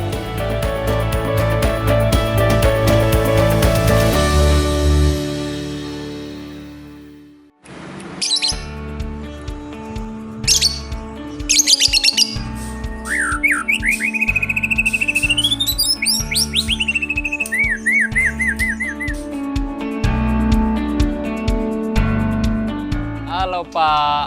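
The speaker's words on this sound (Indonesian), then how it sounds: "penghobi yang sudah bertahun-tahun menekuni burung berkicau dan memiliki kecintaan yang tinggi terhadap burung penyanyi" Songbirds chirp and whistle with varied trills and tweets, fairly close and clear. Music plays loudly at first, then the calls continue over a steady background.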